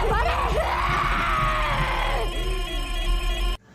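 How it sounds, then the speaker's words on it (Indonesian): A demon shrieks in pain during a horror film scene, one long loud drawn-out scream with a wavering pitch and a rough noisy layer underneath, cutting off abruptly. "Iblis yang ada di dalamnya teriak kesakitan"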